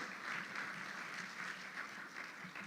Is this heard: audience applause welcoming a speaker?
yes